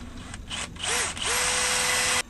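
A power drill bores holes in a metal hitch rack, a close, loud whine that rises and dips in pitch as the trigger eases and squeezes, then runs steadily before cutting off.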